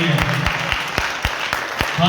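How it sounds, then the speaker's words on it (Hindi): Enthusiastic applause for a church worship team: dense, steady clapping from a congregation filling the room, with sharp periodic thumps and a voice talking over it. "एक जोरदार ताली वर्शिप टीम के लिए, हालेलुया।"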